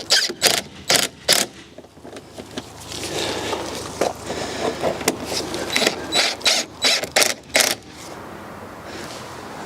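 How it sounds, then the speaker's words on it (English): Screws being driven in to secure the rear bumper on a crash-damaged BMW under rebuild, close-up ratcheting and clicking bursts in quick repeated runs over a steady background hum. "just going to get these 2 screws installed just to hold it in place."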